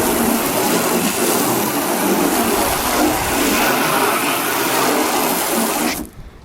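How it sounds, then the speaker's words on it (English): A loud, steady spray of water hisses and drums onto a car hood for about six seconds, broadband and continuous, then abruptly cuts off. "So here's the hood. We'll hit it with water."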